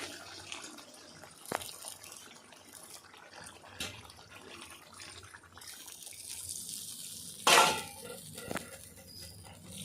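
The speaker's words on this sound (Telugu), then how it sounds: "ఇప్పుడు కొంచెం వాటర్ వేసుకుందామండి" Water is poured into a simmering mutton do pyaza curry, a faint, quiet trickle and splash with a few soft utensil knocks and one brief louder clatter.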